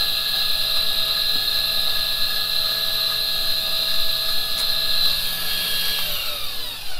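FemoBook coffee grinder set to 20 clicks grinds Honduras coffee beans with a steady, loud, high-pitched whine that runs continuously and winds down near the end.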